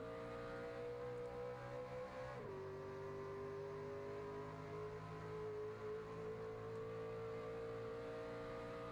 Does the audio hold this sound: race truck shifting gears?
yes